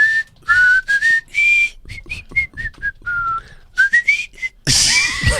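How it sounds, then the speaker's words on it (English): A person whistles a lively tune in a run of clear, bright, sliding notes with short pauses between phrases, close and loud, ending in a burst of louder noise. "It's a whistling event."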